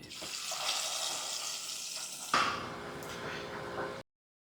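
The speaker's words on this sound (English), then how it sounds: "We're going to be frying this using palm oil." Steady sizzling and crackling of food frying in hot palm oil, with a brief louder hiss partway through, then it cuts off.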